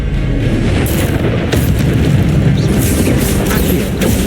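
A fiery Incendio spell blast from the video game Hogwarts Legacy, a loud, sustained booming roar with dense crackling bursts that fill the whole moment, close and forceful.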